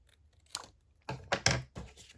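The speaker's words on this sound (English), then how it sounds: "I'm just going to angle cut it like that" Scissors make a few quiet snips and rustles while angle-cutting a paper tag for a stationery gift set, the sound close but faint and irregular, with no voices.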